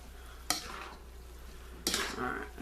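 Egg roll filling being stirred in a hot frying pan, a soft steady sizzle with two sharp scraping stirs against the pan, quiet and close.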